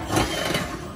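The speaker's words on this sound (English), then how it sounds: "So I'm going to drill that out based on the template." A power drill bores out holes through a template while installing an LED light in a solid, non-insulated patio cover, giving a steady, close, gritty whirr for about a second.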